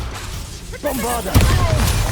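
Blasting spell explosion in the video game Hogwarts Legacy during a busy fight: a sharp, loud boom after a spoken voice, followed by sustained rumbling battle noise.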